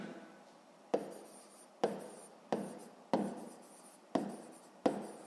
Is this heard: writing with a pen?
yes